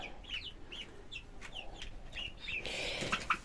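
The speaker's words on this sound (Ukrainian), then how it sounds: "Це ось курочка." Chickens cluck and chirp in a quick, scattered series of short calls, fairly faint, with a soft rustling background and no talking.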